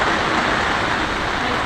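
Steady rain pours down at an outdoor National Touch Series touch football match, an even, unbroken hiss that holds at the same level throughout, with no other sounds standing out.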